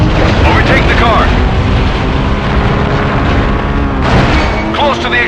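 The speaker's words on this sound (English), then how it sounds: "Close to the explosion." Explosion sounds in the video game Stuntman: Ignition, heavy booming blasts over a loud continuous roar of engines and action, with a voice speaking over it.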